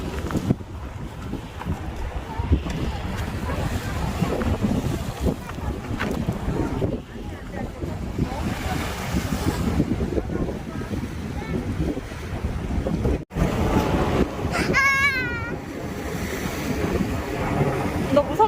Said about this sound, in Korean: 무지 파도.